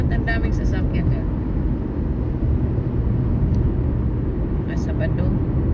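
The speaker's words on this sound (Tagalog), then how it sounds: "Ewan ko ba't ang daming sasakyan eh?" Busy road traffic in Kansas City produces a loud, steady roar of passing vehicles that never lets up. Brief voices rise over it now and then.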